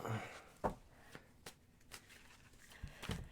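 Tarot cards being shuffled during a live reading: soft, irregular riffling clicks and taps spread over a few seconds, close and quiet, with faint voices in the background.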